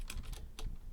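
Keys on a computer keyboard are tapped in a quick, quiet burst of four or five distinct clicks close by, with no talking over them.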